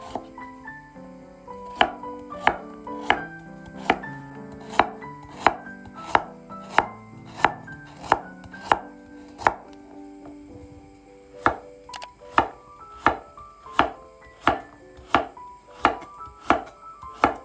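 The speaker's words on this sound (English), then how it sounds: "Take 2 carrots and slice them into even rounds." A knife slices carrots into rounds on a cutting board, a long run of sharp, evenly spaced chops with a brief pause midway before the steady rhythm resumes, close and loud with no talking.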